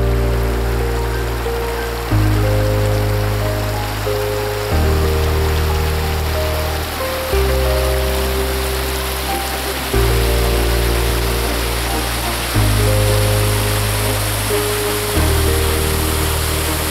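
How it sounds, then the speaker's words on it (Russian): A groundwater waterfall pouring out at the entrance of an abandoned mine adit in the Caucasus mining town of Tyrnyauz, a loud, steady, broadband rushing roar with low musical chords running underneath. "И первая штольня встречает водопадом грунтовых вод."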